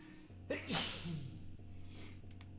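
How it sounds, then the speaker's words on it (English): A loud, sharp human sneeze bursts out close to the microphone over a low steady hum, followed by a fainter breathy aftersound. "I'm sorry for sneezing so loudly."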